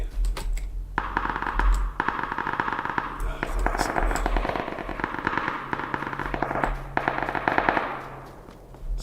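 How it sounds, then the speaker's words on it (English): Rapid automatic gunfire from a firefight in the battle-royale video game PUBG, sustained bursts crackling continuously over several seconds, fairly loud with a low rumble beneath. "So that gunfight is fantastic for covering the sounds of me moving around the world"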